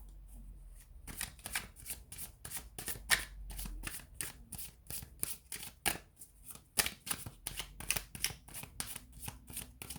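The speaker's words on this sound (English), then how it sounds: "give the cards a shuffle" Tarot cards being shuffled by hand, a long run of quick riffling bursts and soft slaps repeating in irregular rhythm, close and fairly quiet, with no talking.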